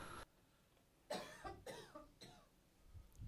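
A person coughs several times in quick succession, close and fairly loud, with a short quiet gap before the bursts and a trailing breathy tail.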